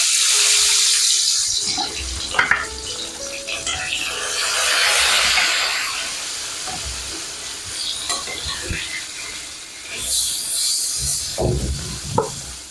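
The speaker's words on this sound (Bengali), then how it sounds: "তেলটা গরম হয়ে গেছে, এখন মাছটা ভাজবো।" Hilsa fish pieces frying in hot oil for a mustard hilsa dish, with a steady broadband sizzle, occasional stirring clatter and some running-water sounds, close and fairly loud, without talk.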